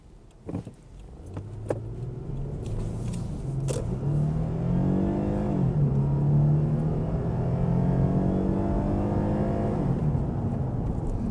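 A 2nd-generation Lexus IS 250 sedan drives along, its engine note climbing steadily as it accelerates through gears, a continuous close cabin drone with a few light rattles at the start.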